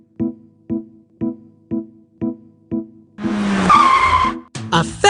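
A cartoon magic pumpkin turns into a fancy sports car in a puppet-theater Cinderella game: six evenly spaced soft plucked tones give way to a loud burst of tire squeal and skidding, then a short screeching tail.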